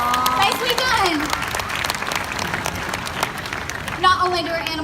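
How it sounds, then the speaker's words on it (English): Crowd applause for an actress at an outdoor animal actors show, steady and fairly loud, with a voice speaking over the start and again near the end. "How about a round of applause for our actress?"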